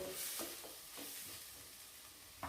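A spoon stirs upma with grated coconut in a pan over a medium flame, producing faint, irregular scraping and light sizzling, quiet and without speech.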